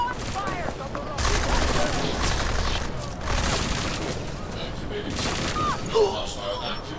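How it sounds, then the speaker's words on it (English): Gunfire in the video game Deus Ex: Mankind Divided crackles in sustained bursts and volleys over several seconds, loud and dense, with game voices mixed in. "Gunfire from the road."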